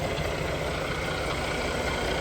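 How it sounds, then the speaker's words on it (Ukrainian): A truck engine idles steadily and evenly, a continuous low rumble holding at the same level throughout with no other sounds. "сам по собі двигун, в принципі, робить рівненько гарно, тихенько"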